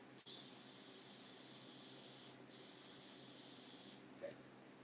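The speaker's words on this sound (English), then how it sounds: "Let's see what I'm spraying at." An airbrush sprays paint at 30 PSI, a steady high hiss in two long bursts split by a brief pause, close and fairly loud.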